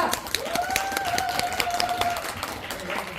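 Audience applause for a youth choir's encore at a Jeongeup YMCA boys and girls choir completion concert, a steady wash of clapping filling the hall, with a held sung or tonal note rising over it partway through.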